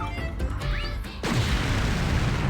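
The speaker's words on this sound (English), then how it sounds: "Explosion!" A video game explosion in Ar Tonelico 2 erupts abruptly after a moment of quieter game sound, then a broad loud roaring blast sustains to the end.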